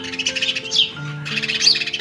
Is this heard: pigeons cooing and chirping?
yes